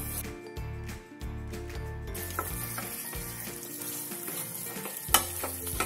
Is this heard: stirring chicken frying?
yes